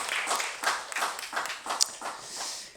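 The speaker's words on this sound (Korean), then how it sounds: "우리 박수로 감사해 표현해 주십시오" A church congregation claps its thanks, a modest, slightly irregular patter of hands that rises and falls over a few seconds, fairly close and without talk.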